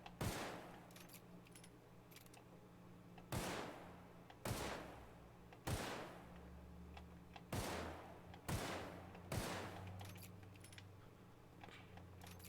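Gunfire in the video game The Outer Worlds: about eight loud, sharp gunshots in irregular pairs and singles over a steady low hum of background music, with no talking.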